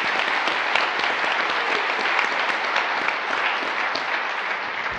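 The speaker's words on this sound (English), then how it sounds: "Big round of applause." A crowd at a Superstar Retreat session breaks into a big round of applause, a thick, even roar of many hands clapping without pause for the whole stretch.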